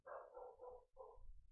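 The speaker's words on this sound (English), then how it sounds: "That's my dog barking at nobody." A dog barks twice, faint and somewhat distant, two short harmonic woofs with a brief gap between them, set against a quiet indoor background.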